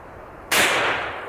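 One powerful gunshot fired at a lead block bursts out loud and close, a sudden crack that trails off in a short, dense echo.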